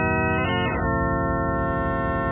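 A 16-oscillator synthesizer module plays a complex additive wave shape: a dense, buzzing tone of many stacked partials, with a swooping sweep early on, then a steady, loud drone.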